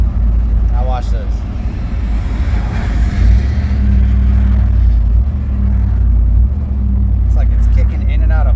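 Lowered Chevrolet C1500 Silverado pickup shuddering as its transmission kicks in and out of lockup, a loud, continuous low engine and road rumble from inside the cab with a few brief rattles.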